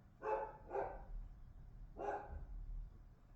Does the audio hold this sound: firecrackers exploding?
no